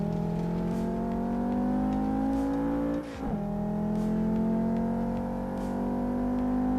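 A race car engine in the PC racing game Assetto Corsa drones loudly and steadily, with a brief dip around a gear change before the revs climb again.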